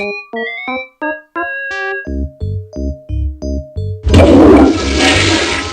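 Cartoonish toilet flush from the adventure game Day of the Tentacle, a short series of musical plinks and bouncy low notes leading into a loud rushing, swirling water gush, close and alone.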